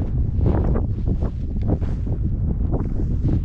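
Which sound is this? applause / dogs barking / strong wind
strong wind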